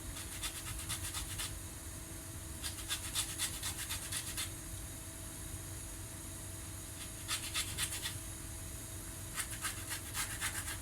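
Topping grated over a semolina revani dessert with kadayıf. Quiet bursts of rapid rasping strokes come in short runs separated by pauses, heard close over a low background hum.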